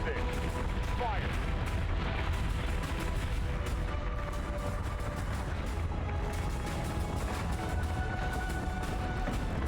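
Space-combat cannon fire in Battlestar Galactica: Deadlock, a steady dense barrage of booms and rumble running the whole time, loud and continuous with no clear gaps.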